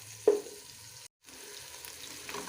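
Chicken for haleem fries in a pot, a soft continuous sizzle with a brief stirring clatter near the start and a short drop to silence midway.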